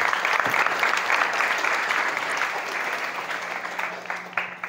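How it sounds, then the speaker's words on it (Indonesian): An audience of junior high school students at a motivational seminar claps steadily for several seconds, a dense, lively applause that gradually thins out toward the end. "Tepuk tangan buat dua pembicara hari ini."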